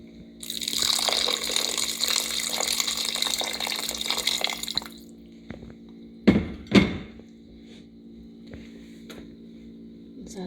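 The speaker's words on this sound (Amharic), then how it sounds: "አሁን ነው ውሃ የማደርገው።" Water pours steadily into a cooking pot of stewing meat for several seconds. The flow stops, followed by a couple of sharp thunks of the pot or lid against a low electrical hum.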